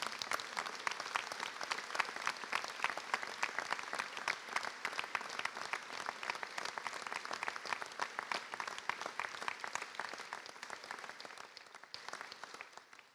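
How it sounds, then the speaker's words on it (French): Sustained applause from the audience at a town New Year's greetings ceremony in Lège-Cap Ferret, many people clapping in a steady, moderately distant roar that gradually fades near the end. "Je crois qu'on peut les saluer par une salve d'applaudissements."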